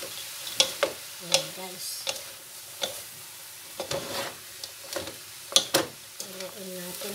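Pancit noodles being stirred in a frying pan for a Christmas meal, with repeated scraping and clinking strokes over a soft sizzle and a brief spoken line.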